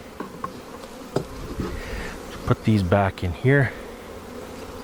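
Honey bees buzz in a steady swarm around opened hive frames during a beekeeping inspection, with a person speaking briefly partway through over the continuous insect hum.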